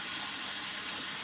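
Tap water runs in a steady, even rush into a sink full of dishes, close and continuous with no break.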